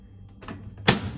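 A microwave oven door shuts with one sharp, close click-thud, preceded by faint handling noises in a quiet room.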